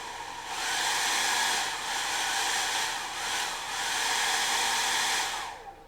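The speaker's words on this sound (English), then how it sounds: "Sweet sounds of the blow dryer." A blow dryer used for drying paint on miniatures blasts in a loud, steady rush that dips and surges a few times as it is moved, then cuts off at the end.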